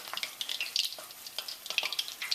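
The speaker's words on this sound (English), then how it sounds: "All you're doing basically is dipping the shrimp into the batter and then into the hot vegetable oil" Battered shrimp dropped into hot vegetable oil for pholourie, frying with a steady crackling sizzle full of small rapid pops, close and moderately loud with no talk.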